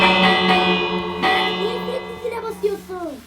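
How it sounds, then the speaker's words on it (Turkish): A Minecraft bell rings with a bright, sustained metallic tone that slowly decays, struck again once midway, before a voice speaks over the fading ring. "Zile basacağım ya."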